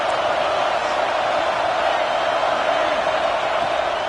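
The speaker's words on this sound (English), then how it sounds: "Man, this crowd really affecting the football game." A home crowd roars steadily in a college football video game, Oklahoma against South Carolina, as a loud, unbroken stadium wash with a commentator's voice over it.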